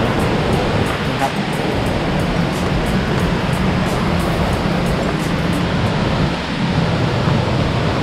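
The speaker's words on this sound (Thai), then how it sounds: "เรามาถึงน้ำตกโกอิโดขั้นที่2แล้วนะครับ" Krok I Dok waterfall in Khao Yai National Park pours with a constant broadband rush, loud and close, unbroken throughout, with no talk in the water's roar.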